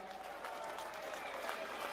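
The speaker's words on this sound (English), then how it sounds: "Please give Bobby a round of applause." Outdoor crowd claps for a young boy brought on stage at a farmers' protest rally in London, a faint, distant, continuous patter of applause.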